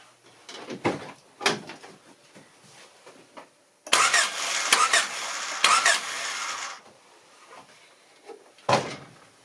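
A 1993 Honda Civic with a crank-no-start fault turns over in two sustained bursts of starter cranking, loud and close, with clicks and clunks before and a short burst near the end.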